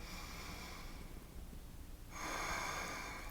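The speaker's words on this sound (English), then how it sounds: "One more big breath in." A deep breath is drawn in during a yoga flow, a soft, airy inhale that starts partway through and grows louder as it continues.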